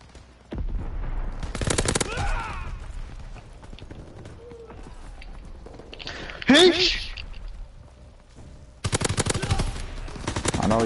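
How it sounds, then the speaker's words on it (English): Bursts of rapid gunfire in a World War II shooter game, several loud volleys separated by quieter stretches, with a voice talking over part of it. "I turned my back because there's so much shooting at me"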